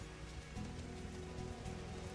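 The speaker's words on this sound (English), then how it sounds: "And it's raining out here." Steady rain pours down in Final Fantasy XIV, a constant hiss of drops hitting a surface, with no voices.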